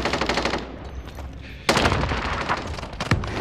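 Automatic weapon fire in Call of Duty: Modern Warfare, a rapid rattling burst that fades, then a louder close volley kicks in and continues with another sharp crack near the end, no talking.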